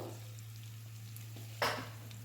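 A large chopped onion hits hot oil in a wok and sizzles, with a short, sharper burst of frying and stirring partway through over a low steady hum.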